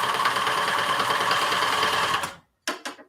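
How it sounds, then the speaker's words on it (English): A sewing machine stitches fabric scraps in a fast, steady mechanical hum for a little over two seconds, then stops, followed by two short bursts of the motor. "So let's sew this one."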